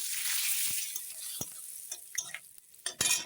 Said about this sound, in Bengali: এখানে আমি একই তেলে এখন শুকনো লঙ্কা আর পাঁচফোড়ন দিয়ে দিলাম এখন ভেজে নেব